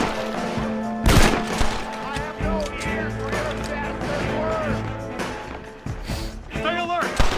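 Gunfire from Red Dead Redemption during an ambush in Blackwater: a loud sharp shot near the start, then scattered fainter reports under continuous talking and game sounds.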